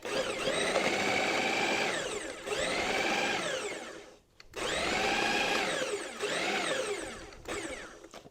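A food processor pulses cold butter for biscuits in bursts of rising and falling motor whir. There are about five pulses of a couple of seconds each, loud and close, with short gaps between them.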